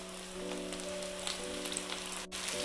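Chopped cabbage sizzles in a hot pan with sautéed onion for veg chowmein, a steady close frying hiss with faint crackles and a brief gap near the end, with no talking.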